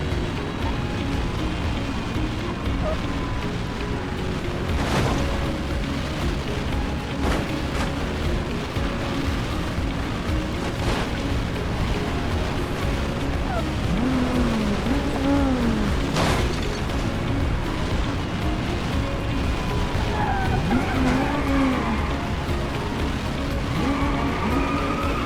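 A car in BeamNG Drive caught by an EF3 tornado, with a constant roaring wind-and-engine rumble, tire squeals and sharp thuds as the vehicle flips, no voices.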